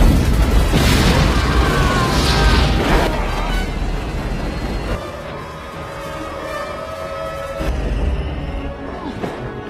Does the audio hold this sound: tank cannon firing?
yes